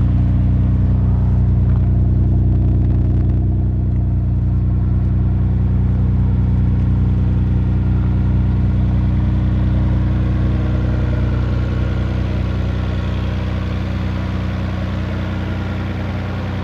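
A Nissan R32 Skyline GTR engine idling close by, a steady loud low rumble that continues without break.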